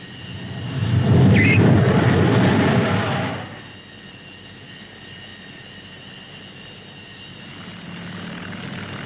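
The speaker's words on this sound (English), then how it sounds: "Landing on is a moment of precise timing for pilots and flight deck crews alike." A Navy Tracker aircraft lands on a carrier flight deck, a loud engine roar sweeping close for a few seconds before dropping away to a low, steady background rumble.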